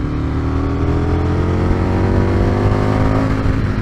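Aprilia RSV 1000 motorcycle engine pulling hard under acceleration, a loud sustained roar with rising engine pitch, recorded up close from the rider's position with wind noise.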